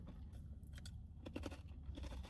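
Close, quiet crunching of a brittle cookie being chewed, a few crisp bites and grinding chews with no talking.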